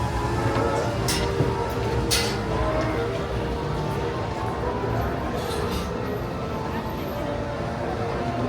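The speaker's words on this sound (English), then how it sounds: "here was the sweeper train, pulling back into Main Street Station after collecting the final passengers from around the park." Disneyland's sweeper train, a steam train at the end of the night, pulls back into Main Street Station, a steady low rumble of rolling cars under crowd murmur with a few brief higher squeals.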